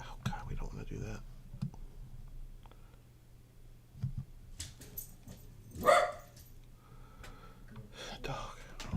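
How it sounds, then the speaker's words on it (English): Dogs bark in the background of a room, with one louder sharp bark in the middle, mixed with quiet talking and keyboard clicking. "these dogs. Everything's making so much noise right now"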